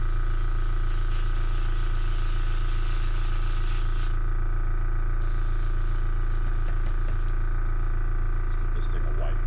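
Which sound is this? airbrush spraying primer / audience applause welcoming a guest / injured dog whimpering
airbrush spraying primer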